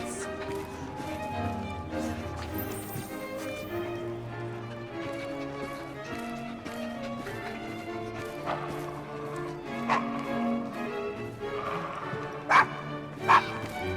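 A dog named Desmond barks and whimpers in Assassin's Creed Syndicate, set in Victorian London, with repeated yips over a busy layer of game music and ambience.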